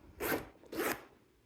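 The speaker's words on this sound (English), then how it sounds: "What I really love is the back pocket compartment where it's zipper" Two quick zipper pulls on the back pocket compartment of a Celine leather handbag, each a bright, close rasp lasting a fraction of a second, separated by a short pause.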